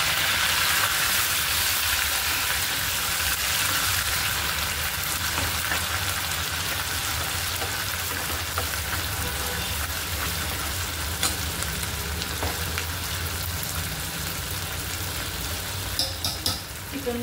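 Onion and tomato paste frying in oil with chicken in a Maharashtrian kala chicken curry, a steady loud sizzle running throughout with occasional stirring scrapes near the end, no talking.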